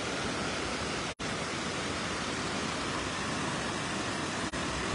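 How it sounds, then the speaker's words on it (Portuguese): Water from the spillway of the large Araras reservoir (Paulo Sarasate dam) roars in a steady, loud broadband rush close by, with two very brief dropouts, and no talking. "Muita água jorrando."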